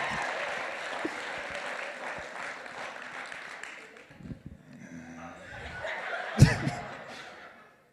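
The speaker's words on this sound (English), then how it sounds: "Look at y'all clapping." Comedy club audience clapping during a stand-up comedy special, a steady wash of applause that fades after a few seconds while someone talks over it and scattered laughter follows.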